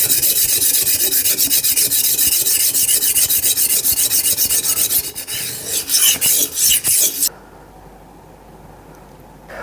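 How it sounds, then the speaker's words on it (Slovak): Steady rhythmic rasping of a knife blade stroked back and forth on a 200-grit whetstone, close and continuous, slowing into separate strokes before stopping. "Pri každom jednom brúsení je najdôležitejšie používať veľmi dobrú zrnitosť pri prvotnom brúsení"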